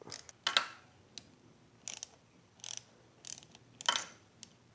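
Clicks and scraping rattles come from a bicycle brake lever being loosened and slid along the handlebar, in several short irregular bursts with quiet gaps between them, close and faint, with no talk.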